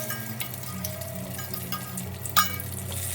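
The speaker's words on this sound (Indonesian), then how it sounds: "aku masukin tomat sama daun bawang, aku akan goreng ya" Tomato and green onion frying in a pan, a steady low sizzle running throughout with a brief louder crackle or stir near the end, close and fairly quiet with no talking.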